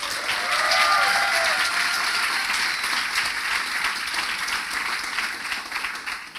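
Conference audience at Defuse 2019 applauding a speaker, a dense, sustained burst of clapping from a large crowd that gradually tapers off.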